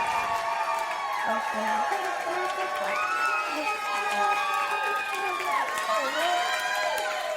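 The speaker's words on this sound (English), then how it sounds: "Guys, keep clapping for Erica Cobb" A live podcast audience cheers, whoops and claps for guest Erica Cobb joining the host, a dense, steady roar of excited voices and shouting filling the room for several seconds.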